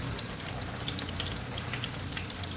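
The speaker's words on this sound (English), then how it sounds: "So let's start it up. You can hear it running." A running dishwasher sprays water inside its tub, making a steady, dense hiss and patter like heavy rain on a hard surface, continuous and fairly close, with a low hum from the machine beneath and no talking.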